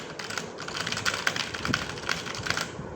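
Quick close keystrokes rattle on a Redragon RGB backlit clicky gaming keyboard, a dense run of sharp clicks with no talking over it.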